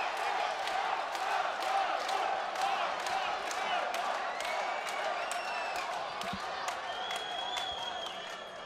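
Argentine supporters at the Avchala rugby stadium during a U20 World Cup match against Georgia clap rhythmically and cheer close by, a dense crowd din under someone talking.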